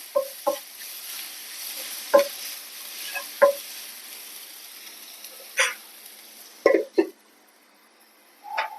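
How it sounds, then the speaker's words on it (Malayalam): Palak paneer masala with cumin powder is stirred in a pan, with intermittent sharp spoon knocks and scrapes against the pan over a faint, steady sizzle, close and clear. "നമുക്കൊരു കാൽ ടീസ്പൂൺ ജീരകം പൊടി ചേർക്കണം കൂടി നല്ലവണ്ണം ഇളക്കി യോജിപ്പിച്ച്"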